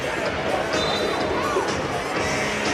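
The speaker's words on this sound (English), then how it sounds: "Big crowd here tonight at the RP Funding Center." Large crowd filling an indoor soccer arena for the Florida Tropics against the Baltimore Blast, a steady loud roar of chatter and cheering with no single voice standing out.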